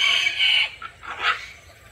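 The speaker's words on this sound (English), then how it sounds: "these are just common ringneck pheasants" A common ringneck pheasant in a pen calls with a harsh, loud crowing burst followed by two shorter, fainter squawks.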